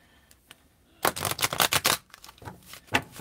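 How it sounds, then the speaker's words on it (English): A tarot deck is shuffled by hand in a quick burst of crisp riffling and flicking, loud and close, then a few softer card taps follow. "Okay, so I'm just going to shuffle these real quick."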